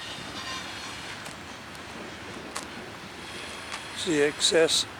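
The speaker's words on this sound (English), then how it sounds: "there goes a CSX coal train" A low continuous rumble of a passing CSX coal freight train, with faint squeals and a speaking voice toward the end.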